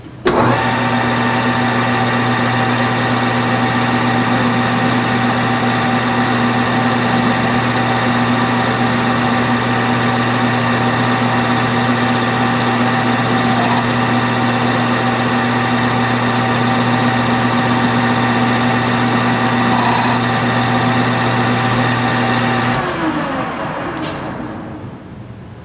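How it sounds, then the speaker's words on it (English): A small high-speed power tool whines steadily and loudly as it skims solder off a Sako rifle bolt nose, a constant close drone with faint cutting scrapes, winding down at the end. "we're going to skim off this drop"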